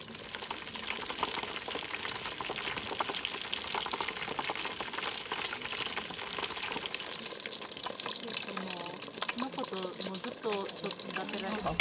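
Mushroom tempura frying in oil, a dense continuous crackling sizzle throughout, close and fairly loud, with a voice speaking over it toward the end.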